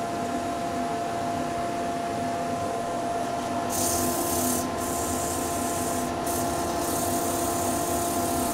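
Hand sanding of nice timber with 240 grit abrasive paper gives a continuous, close, dry rubbing hiss that grows brighter and harsher partway through, with no voices.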